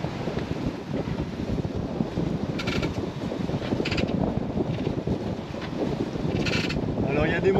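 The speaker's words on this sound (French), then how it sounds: "on reprend un petit peu plus de vent." Wind buffets the microphone aboard a sailboat moving over choppy sea, a steady blustery rush mixed with water noise that swells slightly toward the end, with a faint voice talking.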